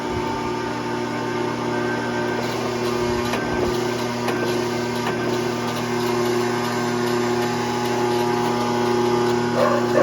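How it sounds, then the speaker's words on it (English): A metal bender works steel for a Caterpillar D2 PTO shield, producing a steady mechanical hum with faint scraping and creaking as the metal wraps around the die, continuous and fairly loud. "Okay, we're back into the bender here."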